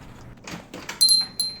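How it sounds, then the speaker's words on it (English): In a video game, a café door opens with soft shuffling, then a small bell above it chimes brightly twice, near and clear. "A bell above the door rings out as I enter"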